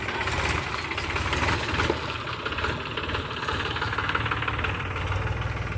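The diesel engine of a farm tractor, just push-started after a breakdown, runs steadily close by with a loud, rough, continuous knocking rumble and no talking over it.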